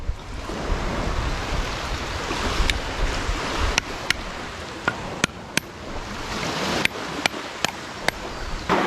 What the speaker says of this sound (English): can you hear that? That's water.